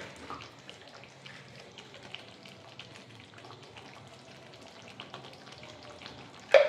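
Duck eggs are stirred through a frying curry, giving a soft, low sizzle with faint scraping stirs throughout and a sharper clatter near the end, no voices.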